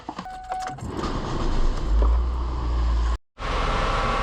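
A Ford Focus engine cranks and catches after an oil change, then runs with a steady low rumble close by, a brief dropout breaking the idle near the end.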